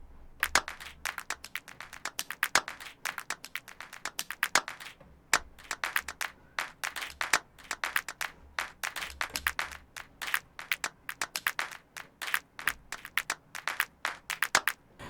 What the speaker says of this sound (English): I might not be using these claps in any of my songs, right?